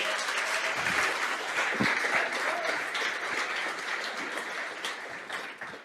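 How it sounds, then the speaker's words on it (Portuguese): A church congregation applauds steadily throughout, a dense wash of many hands clapping at once, loud and sustained without pause. "Você pode aplaudir o Senhor?"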